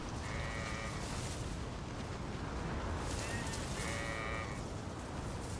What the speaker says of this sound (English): You're scaring my goats, my sheep.